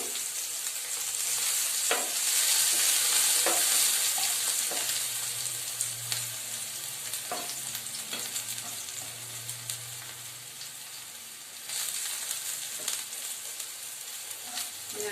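Panch phoron spices frying in hot oil in a pan give a continuous bright sizzle and crackle, with occasional sharp pops and scraping stirs, close up and without talk.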